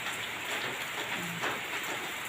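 Steady rain pouring and splashing in a constant wash of noise, with rainwater dripping and running off a roof overhead, close and fairly loud, no voices.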